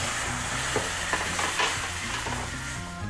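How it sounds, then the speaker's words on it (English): Kangaroo and emu meat sizzles steadily in a hot pan as beef stock is added, with a few stirring scrapes and soft clinks breaking through a continuous frying hiss. "going to add a stock, just a basic beef stock"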